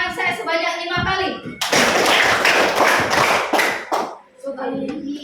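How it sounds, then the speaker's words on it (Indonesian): A classroom of students claps together in a loud burst of rapid, overlapping hand claps lasting a couple of seconds, with speaking voices just before and after. "Berikan tepuk tangan saya sebanyak 5 kali."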